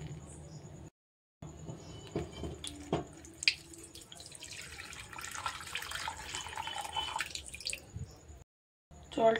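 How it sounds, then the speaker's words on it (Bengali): Cooled water, scooped with a mug and strained through a cloth for homemade vinegar, trickles and drips steadily with small splashes, close by and fairly soft. "মগটা দিয়ে জলটাকে ওপর থেকে তুলে নিয়ে আস্তে করে সব ছেঁকে নিতে হবে।"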